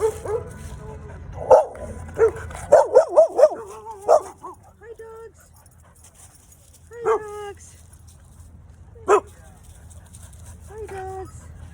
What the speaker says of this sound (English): Oh, here come some dogs.